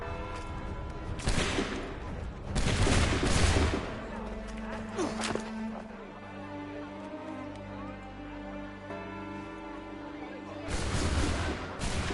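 Muskets in Assassin's Creed 3 go off in ragged volleys on command, loud crackling bursts layered with thuds. A lull filled with a low hum and faint movement follows, then another burst of fire near the end.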